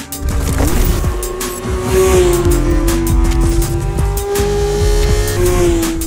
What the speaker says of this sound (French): Introducing a limited edition exhaust system for the Porsche 911 GT3 and GT3 RS.